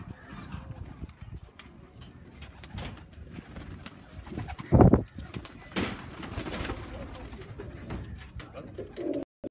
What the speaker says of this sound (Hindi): परवाज़ी कबूतर।